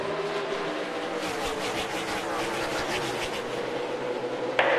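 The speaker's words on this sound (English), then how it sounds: "Drivers, start your engines!" Race car engines on the track at Pocono blend into a steady, dense roar that holds at an even level throughout, with no talking over it.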